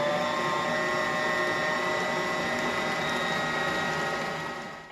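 A Bosch stand mixer runs continuously, mixing two eggs into chocolate chip cookie dough, a loud, steady motor hum with a grinding churn throughout that fades slightly at the end.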